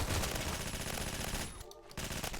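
Rapid automatic fire from an AS Val assault rifle in the Phantom Forces shooter, a dense, loud stream of shots at about 900 rounds per minute, broken by a short pause before the burst resumes.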